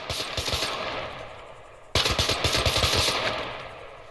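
Bursts of rapid automatic gunfire from an Xbox video game, a sustained rattling volley, a brief lull, then a louder renewed stream of shots that gradually fades.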